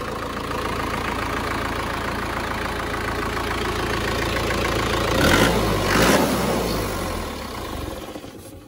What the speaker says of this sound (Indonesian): Suara mesinnya seperti ini lur.